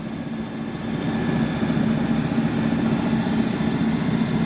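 A big Massey Ferguson tractor on large tyres, working on sludge, its diesel engine idling with a steady, deep, even throb that holds constant throughout, no voices over it.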